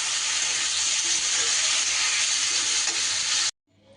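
Tomatoes fry with salt and turmeric in a pan, giving a loud, continuous sizzle for about three and a half seconds. It then cuts off abruptly to near quiet.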